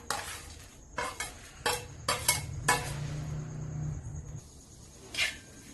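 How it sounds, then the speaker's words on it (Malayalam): Cashews and raisins stirred in a cooking pan: a series of sharp spoon clinks and scrapes in an irregular rhythm, close and fairly quiet, with a soft sizzle underneath. "ഇളക്കി കൊടുക്കാം."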